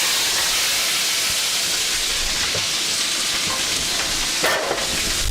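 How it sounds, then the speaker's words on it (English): Broccoli goes into a hot wok of rice noodle stir fry, giving a steady loud hiss and sizzle with a brief flare of crackle near the end. "Next, I'm going to add our broccoli to our wok."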